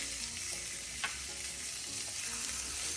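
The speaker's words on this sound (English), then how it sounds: "Toast those up a little bit with the rice." Onions and tomatoes toast with rice in a pan, giving a soft, steady sizzle and crackle with a couple of light utensil scrapes, close and without talk.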